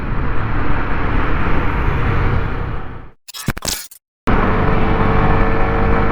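A Yamaha R15 motorcycle rides along the road toward Kailashgiri, producing a loud, continuous roar of engine and wind that drops out briefly in the middle before resuming at full strength.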